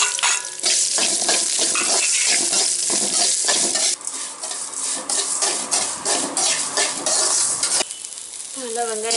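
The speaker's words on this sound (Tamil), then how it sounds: "நல்லா வெங்காயம் பொன்னிறமாக வதங்கிருச்சு" Onions frying golden in hot oil with fenugreek for a village-style fish curry: loud, steady sizzling close by with repeated stirring scrapes, briefly quieter near the end, no voices.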